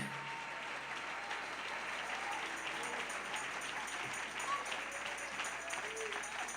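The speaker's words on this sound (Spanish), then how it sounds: "Dele ese aplauso al Señor en esta hermosa noche" A church congregation applauds God during an evening service, steady clapping held throughout at a fairly quiet, distant level, with faint voices and tones beneath.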